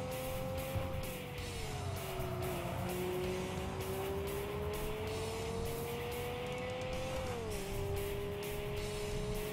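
A race car in Tokyo Xtreme Racer 3 understeers through a long corner, its tires squealing in a sustained, wavering whine over a steady loud engine roar, with no talk.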